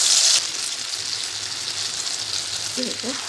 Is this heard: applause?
no